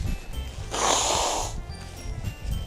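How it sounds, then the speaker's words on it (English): A person blows their nose once, a loud, close, breathy honk lasting under a second, with faint room noise around it. "I need to blow my nose."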